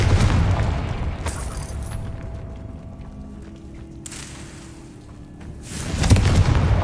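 Hogwarts Legacy Confringo fire spell blasts boom loudly at the start and again near the end, deep rumbling explosions with crackling tails and a quieter lull of magical hum between them.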